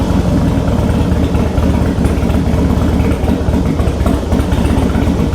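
A 2003 Harley-Davidson FXST motorcycle, cold and fitted with aftermarket exhaust pipes, idles close by with a steady, loping low rumble that holds for several seconds without talk.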